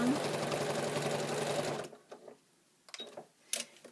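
A sewing machine stitching fabric binding along an edge, running fast and steady for about two seconds before stopping, followed by a few faint clicks and handling noises.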